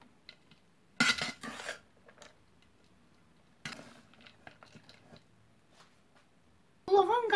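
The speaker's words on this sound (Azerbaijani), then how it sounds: "Və qarışdırıram." A spoon stirs chopped dill into cooked rice in a pot, giving two short bursts of scraping and clinking against the metal, separated by long quiet gaps, with a brighter clatter at the end.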